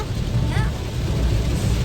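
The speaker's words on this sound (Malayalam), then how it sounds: "കട്ട മഴ" Heavy monsoon rain falls in a dense, continuous roar with deep rumbling underneath, close and steady throughout, with a voice briefly audible over it.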